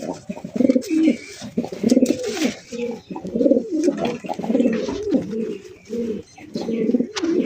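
Large pigeons at a breeding farm coo continuously and loudly at close range, overlapping throaty calls rolling in rhythmic phrases with occasional faint chirps and background rustle.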